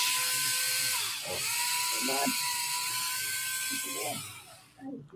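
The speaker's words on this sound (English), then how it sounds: "Who's grinding?" A small rotary tool grinds during scale model building, giving a steady high-pitched dentist-drill whine that runs almost the whole time with brief pitch dips, while people talk quietly underneath.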